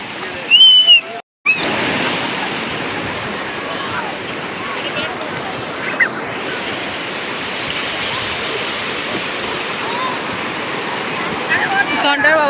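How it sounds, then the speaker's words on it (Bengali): Sea surf at Gangasagar washes in a steady, loud broadband roar while someone bathes and swims, with a brief louder splash near the start and faint voices in the background. "সনটা সমুদ্রে স্নান করছে গঙ্গাসাগরে"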